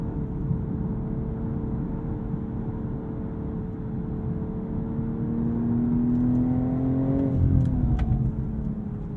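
A 2022 BMW M240i xDrive Coupe pulls hard out of a corner, its engine note climbing steadily in pitch and volume as it accelerates, close and continuous with a rising whine toward the end and no talking.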